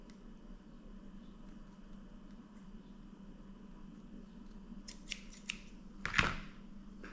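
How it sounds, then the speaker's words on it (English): Scissors snip the end off a fishing line after tying a Trilene knot, giving a few brief, crisp clicks near the end of a quiet stretch with a low background hum. "I'm going to snip that off with my scissors"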